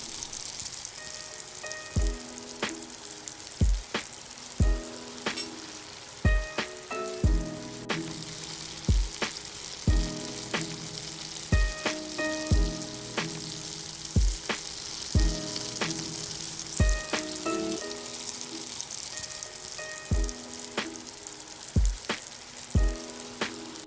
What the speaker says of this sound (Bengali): এবার এই তেলের মধ্যে দিয়ে দিচ্ছি প্রায় 300 গ্রাম চিংড়ি